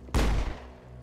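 A single sharp, booming weapon report from the video game Mass Effect, starting abruptly and decaying over about half a second, loud and alone.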